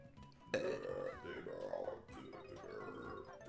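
A voice imitating Captain Burp's burp, a long gurgling croak that starts abruptly, wavers and breaks off, then a second throaty stretch, all close and fairly loud.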